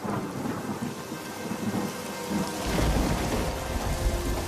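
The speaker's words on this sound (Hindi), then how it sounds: "जोर का तूफान आया और बारिश शुरू हो गई" A thunderstorm with heavy rain: a dense, steady hiss of downpour, with a deep rumble of thunder swelling in about halfway through and rolling on loudly to the end, no voices.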